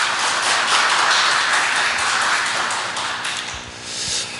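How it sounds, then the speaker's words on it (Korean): Congregation in a Korean church service applauding the worship ensemble, a dense burst of steady clapping that swells and then tapers off over a few seconds. "우리 연주로 수고해주는 앙상블에게 다시 한번 격려의 박수 부탁드립니다"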